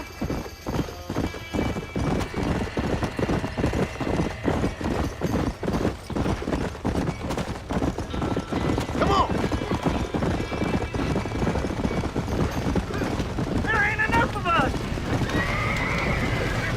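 Horses trapped in a burning barn in Red Dead Redemption whinny and neigh in panic over rapid clattering hooves and crackling, loud and close, with voices talking throughout.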